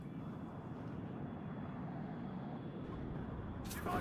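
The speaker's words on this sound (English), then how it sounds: "It's a bomber." A bomber aircraft passes overhead in the war game WARNO as a faint, steady engine rumble and broadband roar with no talking.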